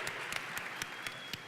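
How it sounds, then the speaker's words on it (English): Audience at a Daniel Plan church rally applauding the men present, a soft, steady wash of clapping with periodic sharper bursts, fairly distant and quiet. "Would you give a round of applause to the men that are here today?"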